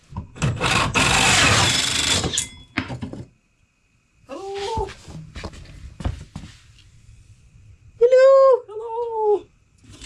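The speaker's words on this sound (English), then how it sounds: "I'm going to go and drill from the other side so I don't damage the other side." A power drill bores through from the reverse side to make a pipe hole for a diesel heater upgrade: a loud, rough grinding burst lasting about three seconds, followed by quieter handling knocks and a few short squeaky tonal chirps.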